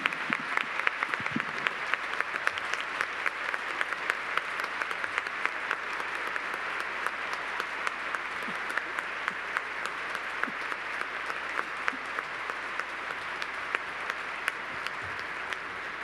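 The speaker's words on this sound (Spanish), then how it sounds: "Recibamos con alegría a nuestros hermanos diáconos con un caluroso aplauso." A church congregation applauds newly ordained deacons: a long, steady burst of many hands clapping, fairly distant and reverberant, that keeps an even level from start to finish.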